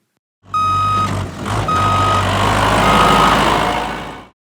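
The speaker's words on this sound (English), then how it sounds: "All right, we're backing up the fish stocking trucks." Fish stocking truck backing up, its reversing alarm beeping in a few steady pulses over a loud, close idling diesel engine rumble, with no voices.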